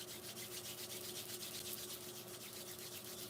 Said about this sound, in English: bring your palms together, rub them in a circular motion.